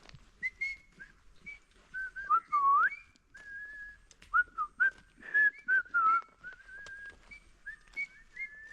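Someone whistles a melody nearby, clear bright notes with slides and short phrases separated by brief pauses, alone in a quiet space.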